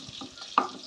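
Kofta frying in hot mustard oil sprinkled with turmeric: a short burst of sizzling with a sharp crackle partway through.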